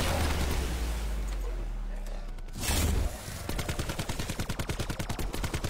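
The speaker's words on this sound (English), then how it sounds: "Shoot him in the face hole," Gunfire in Call of Duty Black Ops 4 Zombies on the Blood of the Dead map: heavy rumbling shots and an explosive burst, then a rapid, evenly spaced automatic volley, loud and close, with players talking over it.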